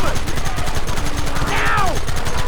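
Dense, rapid gunfire fills the scene in Red Dead Redemption, continuous rattling shots close and loud, with shouting voices over the top.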